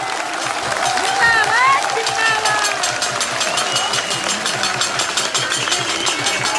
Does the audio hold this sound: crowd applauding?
yes